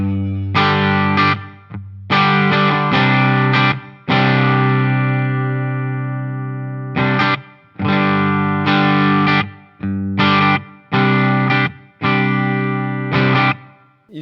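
Electric guitar played through a NUX Atlantic delay and reverb pedal, with roomy reverb tails after strummed chords and short picked phrases, loud and close, repeated bursts with brief gaps, no talking.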